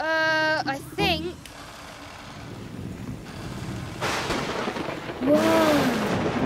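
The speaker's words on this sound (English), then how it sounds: "It's pouring with rain." Heavy rain and a thunderstorm in a children's cartoon: a steady, loud broadband downpour roars for several seconds, with cartoon voices briefly at the start and near the end.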